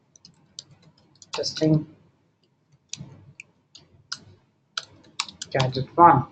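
Keyboard keys clicking in short bursts while entering a product name into an e-commerce admin page, close and moderately loud, with someone talking over parts of it.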